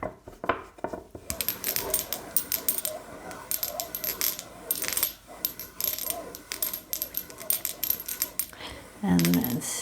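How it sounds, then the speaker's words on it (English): Metal coins tossed for an I Ching reading, dropping and clattering in quick bursts of bright jingles and small bounces that repeat across the stretch, close and crisp. "So I'm taking 2 coins out and see,"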